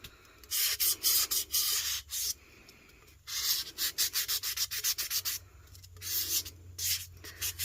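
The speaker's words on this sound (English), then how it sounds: "I do like to sand at a slight angle around the top just to expose a little bit of stainless" Sandpaper rubs epoxy off the top rim of a stainless steel tumbler at a slight angle, in close, brisk back-and-forth strokes that come in quick bursts with brief pauses between passes.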